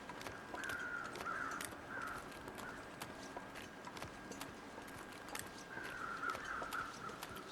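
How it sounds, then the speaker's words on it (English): Crows caw in the survival game The Long Dark, sounding fairly distant in two short bursts of harsh calls. Faint wind and soft crunching footsteps run underneath. "So the crows are over there."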